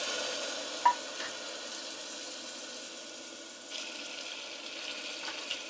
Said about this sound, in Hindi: अब इसमें थोड़ा सा मैं पानी जो है वो शामिल करूँगी।